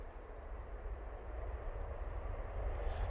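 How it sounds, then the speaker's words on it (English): KLM airliner arriving from Amsterdam Schiphol at Manchester Airport, a faint steady low engine rumble and broad hiss in the distance with no distinct peaks. "There's the KLM coming in from Amsterdam Schiphol"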